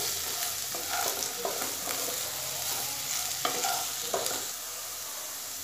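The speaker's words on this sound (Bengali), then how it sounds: "ভালো মতো নেড়ে চেড়ে মিশিয়ে দিয়েছি মশলাগুলোকে" Spiced fried potatoes are stirred in a pan: a continuous hiss of frying with repeated scraping and clinking strokes of the spoon at an uneven rhythm.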